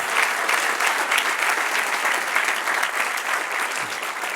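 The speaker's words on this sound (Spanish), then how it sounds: "Denle un aplauso al que reina." Church congregation applauding steadily throughout, a dense, continuous clapping from a crowd indoors with no pauses.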